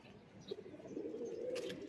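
Soft, low cooing from a female khaki-headed pigeon, a steady rolling murmur that swells midway and carries on close by, with a faint high chirp or two above it.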